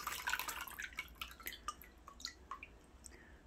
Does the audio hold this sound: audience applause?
no